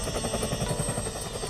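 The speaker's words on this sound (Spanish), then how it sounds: "los pilotos maniobraron para situar el helicóptero justo encima de la cámara del banco" A helicopter hovers overhead, its rotor beating in a steady, rapid throb over a loud continuous engine whine, close and unbroken throughout.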